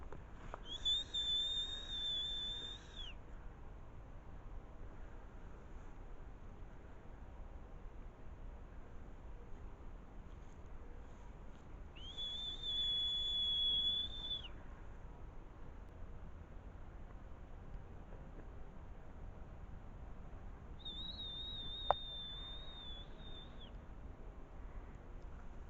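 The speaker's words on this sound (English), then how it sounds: "Someone's whistling back." A person whistles in a forest in Germany: three sustained high whistled notes, each lasting a few seconds, separated by long quiet gaps, distant and faint over soft background hiss.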